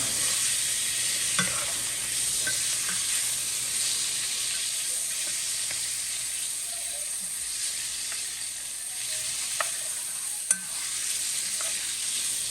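Food fries in hot grease with a steady, loud hiss, broken by occasional sharp pops and crackles near the pan.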